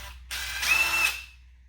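Power drill backing screws out of 25mm hub adapters on a Redcat Everest 10 RC car, one short whirring burst lasting under a second with a rising whine, close by.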